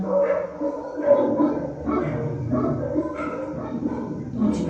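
A rescued dog that had been starved at a mini zoo barks and whimpers close by, with repeated short yips and whining cries in an uneven run.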